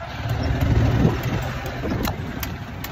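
A go-kart engine runs steadily nearby, a continuous low motor drone with faint rattles over about three seconds.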